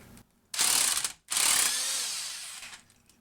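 Ratchet working on the 19 mm top nut of a front strut on a 2013 Toyota Prius V, two close, loud bursts of rapid mechanical whirring separated by a brief gap.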